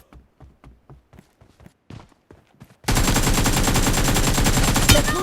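PUBG / BGMI gameplay: a few sharp single gunshots and footstep-like taps, then a sudden loud, sustained burst of rapid automatic gunfire that continues to the end.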